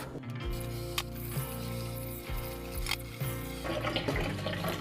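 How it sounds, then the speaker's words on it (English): Running water rinses a Breville Cafe Roma portafilter, a close, steady splashing flow with gurgling shifts and small squishy bursts as the stream strikes the metal, continuous and without talk. "And I'll use some water to rinse it off."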